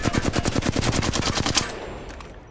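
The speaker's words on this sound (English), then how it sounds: "So if I were to hip fire from here" Rapid automatic hip-fire gunshots in the video game Apex Legends burst out as a loud, fast, steady stream of cracks for about a second and a half, then ring out into a fading echo.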